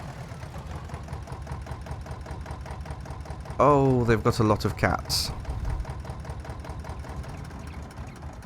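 Vehicle engine idling in Farming Simulator 22, a steady low chugging hum throughout, with a person speaking briefly in the middle.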